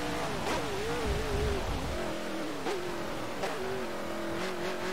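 A single-seater race car in Forza Motorsport 7 revs hard, its engine pitch climbing and dropping through gear changes with short tire-squeal touches, loud and close throughout.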